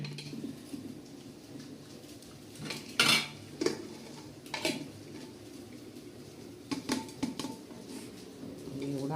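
Puran being stirred in a pot with jaggery, dry ginger, cardamom and fennel powders, metal spoon clinking and scraping against the pot in scattered bursts, fairly quiet, with soft room noise in between.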